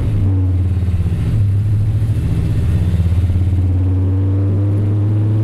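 A 1964 Dodge D100 Hemi pickup truck shifts up through its gears on a curvy road, its engine pulsing loud and close with a deep, steady rhythm and no voices.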